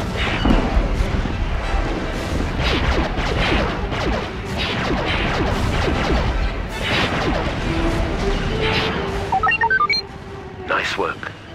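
Rocket explosions fill a Star Wars: Battlefront II battle on Felucia, played on the PS2. Dense booms and crashes overlap through loud, continuous combat noise, and voices talk over the barrage.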